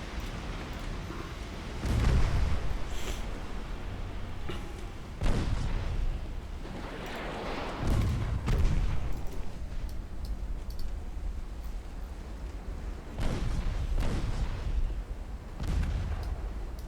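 Artillery guns fire at close range in a Soviet-themed war video game, a series of heavy booming shots arriving every few seconds, each with a rumbling tail over a steady low background.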